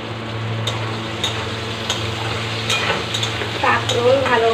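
Pieces of pointed gourd (kakrol) with turmeric and salt fry in a pan, giving a steady close sizzle broken by light periodic clicks and scrapes from stirring.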